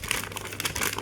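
Paper crinkling briefly while being folded for an origami jet plane, a short close rustle of creased sheet.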